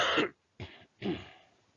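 A single person's cough in a quiet room, a sharp rough burst followed by two shorter, fading coughing bursts with brief gaps between them.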